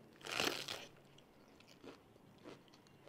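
Close, crunchy bites and chewing of som tam papaya salad from a street vendor on Pridi Banomyong alley in Bangkok: one loud crisp crunch followed by two softer chews, quiet otherwise.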